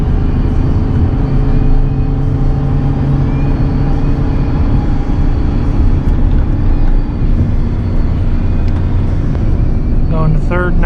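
A 24-year-old 8.1-litre gas V8 truck engine drones loud and steady at about half throttle while towing 18,000 pounds, a constant close rumble with harmonic whine, with someone talking over it.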